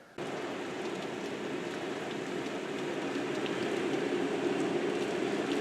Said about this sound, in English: it's raining pretty hard out there now